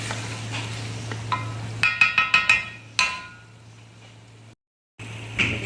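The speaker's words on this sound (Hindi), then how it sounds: "मैं अपने अरबी के साथ गोश्त थोड़ी सी कर रही हूँ भुनाई" Arvi and mutton being roasted (bhuna) in a pot sizzle steadily under a low hum. A quick run of metal spoon clanks against the pot comes midway, followed by a single knock and a brief gap, with no talking.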